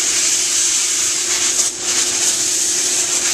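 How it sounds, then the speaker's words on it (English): Compressed air blasts in a steady, loud hiss, blowing dry soil out of an antique rug, close and unbroken throughout with a slight dip midway. "So we're going to use compressed air."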